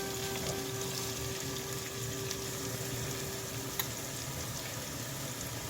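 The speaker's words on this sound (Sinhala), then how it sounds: "මේක බාගෙට දැන් බැදීගෙන ඉන්නේ" Onions fry gently in a pan over low heat for Sri Lankan style fried rice, giving a soft, steady sizzle that stays low and even throughout with no talking.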